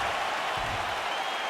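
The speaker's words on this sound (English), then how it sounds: "the crowd is on its feet. They certainly appreciated what they saw there in that round" Video game crowd cheering and applauding after a round of a UFC 5 fight simulation on PS5: a dense, steady wash of clapping and crowd noise throughout, loud and sustained.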